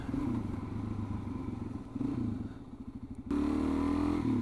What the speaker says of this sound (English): The first off-road outing on the DRZ 400.